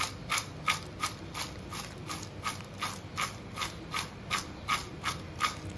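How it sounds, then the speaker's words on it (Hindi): Rhythmic, crisp crunching of crispy fried okra repeats about twice per second, each bite a sharp brittle crackle, close and fairly quiet with no talking. "कितनी क्रिस्पी मेरी सब्जी बनी है इसकी आवाज़ सुन लीजिए"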